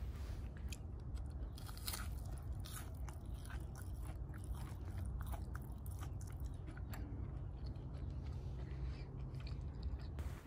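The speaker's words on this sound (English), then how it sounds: "I'm going to take a bite of this fried banana just so you can hear the crunch." Crunchy Thai fried banana being bitten and chewed close up, a continuous dense crackle of brittle crunches and scrapes lasting about ten seconds over a constant background hum, no talking.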